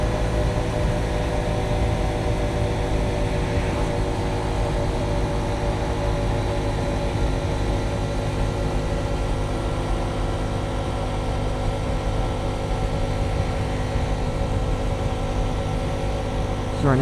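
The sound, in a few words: Honda Trail 125 motorcycle riding uphill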